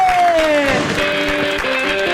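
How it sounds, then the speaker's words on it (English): Wedding guests applauding as newlyweds are introduced, a burst of clapping and crowd noise under a loud music track with a descending tone at the start. "a big round of applause for Mr. and Mrs."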